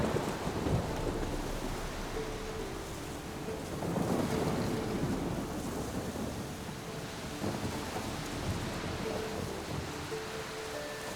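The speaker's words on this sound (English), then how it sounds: "I'm not seeing a storm brewing, but I'm hearing one" Thunderstorm in The Witcher 3 on a modded Deathmarch playthrough: deep rolling thunder rumbles with steady rain hiss underneath, swelling around a few moments and staying loud and continuous throughout.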